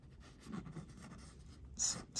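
A strip of paper slides and scrapes between the measuring faces of a micrometer being cleaned, with soft rubbing strokes and a brighter, louder scrape near the end, close up and without talk.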